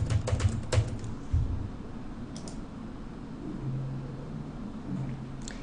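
Keys tapped on a computer keyboard while a password is entered, a quick burst of close clicks at the start, then sparser taps over a steady low background hum.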